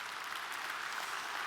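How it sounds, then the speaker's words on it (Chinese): An audience at a Malaysian regional leadership training event claps for Penny, a brief, dense burst of applause heard at moderate distance without voices. "在这里借你们的掌声，给佩妮丽一个热烈的掌声"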